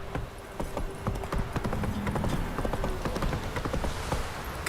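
Roach the horse trots in The Witcher 3, hooves clip-clopping in a quick, steady rhythm close by, with soft game ambience underneath and no speech.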